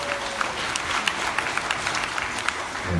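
Applause from a crowd at a Cartier high jewellery gala dinner, a steady dense clatter of clapping lasting throughout, moderately close, with occasional sharper individual claps.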